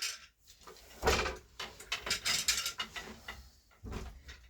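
A wooden hand loom clacks and rattles as the tabby shuttle is thrown for a towel weave, with a dense run of knocks, thumps and sliding mechanical clatter close by.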